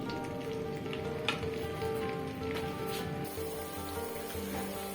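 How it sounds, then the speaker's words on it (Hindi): Three large onions fry in heated oil for an ojri (tripe) dish, a steady close crackling sizzle with occasional sharper pops and a light stirring scrape, continuous and moderately quiet. "ऑयल को हम लोग थोड़ा सा गर्म कर लेंगे और उसके बाद हम इसमें प्याज ऐड कर देंगे"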